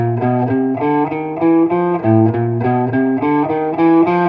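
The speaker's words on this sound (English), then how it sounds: "By turning it this way, you get sort of a brushy cello-like quality." A clean guitar played with an angled pick picks a steady melodic line of single notes with a soft, brushy attack and warm, cello-like sustain.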